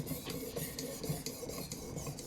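A knife being sharpened on a fixed angle sharpener, quiet rhythmic rasping strokes of the stone along the blade, several passes in quick succession.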